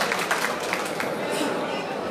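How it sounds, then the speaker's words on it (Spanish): Applause from the audience at a large political rally for a congressional candidate in Santo Domingo Oeste: a steady, dense wash of clapping mixed with crowd noise, with no clear pauses. "Un aplauso para ellos."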